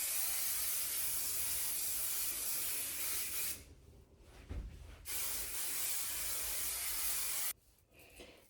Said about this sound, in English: Let's add some hairspray.